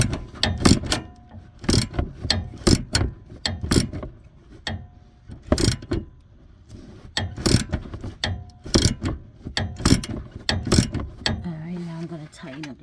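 A wrench ratchets in quick bursts of sharp clicking while tightening a stabilizer link on a Cummins 6.7, close up, with brief pauses between bursts and a short voice near the end.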